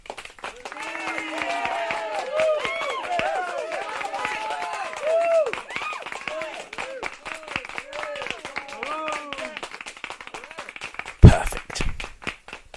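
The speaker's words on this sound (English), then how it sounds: "And add applause." A canned applause sound effect for a radio show plays as a long stretch of crowd clapping mixed with whoops and excited voices, with a sharp, loud burst near the end.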